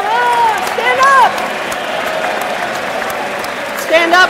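An audience at a college athletics awards ceremony applauds as honorees stand, with moderate clapping and crowd noise under a speaker's voice, swelling briefly near the start and again at the end.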